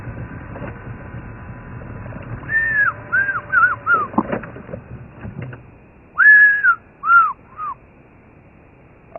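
An African fish eagle calls on a safari drive at Thornybush Nature Reserve, repeated ringing, yelping notes in two bursts, the second louder and nearer, over a low background rumble.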